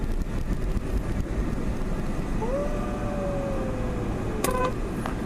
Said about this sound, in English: It has a very cute horn sound.